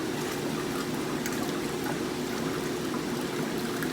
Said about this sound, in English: You can see the pump down there sucking water.